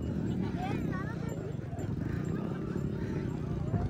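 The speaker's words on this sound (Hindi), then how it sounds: "पहली दफा हम घोड़े में बैठ चुके हैं" Horse hooves clip-clopping steadily as the animal is ridden along a riverside, with people talking and calling out throughout over the rhythmic hoofbeats.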